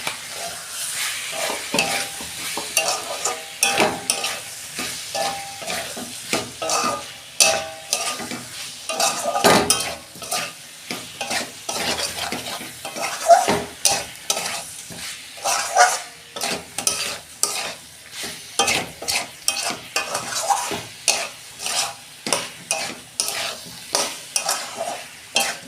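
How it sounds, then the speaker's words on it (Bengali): Potato and cauliflower pieces sizzle in hot oil in a home kitchen pan while a metal spatula repeatedly scrapes and stirs, producing rhythmic clatters and scrapes over a steady frying hiss, with no voices. "তেল ছেড়ে গেছে, আমি আলু আর ফুলকপি দিয়ে দিচ্ছি"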